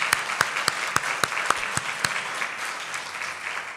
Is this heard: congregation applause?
yes